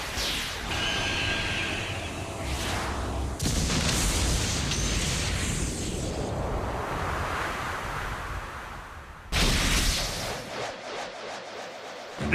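Pegasus Star Blast special attack explosion effect from the Beyblade anime: a loud rushing, windy blast that surges, holds, cuts off abruptly and then bursts again near the end, with no speech over it.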